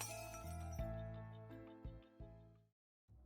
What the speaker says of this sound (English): we heard the shatter of glass